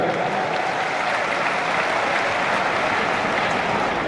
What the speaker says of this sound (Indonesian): Kita tepuk tangan untuk Pak Erik.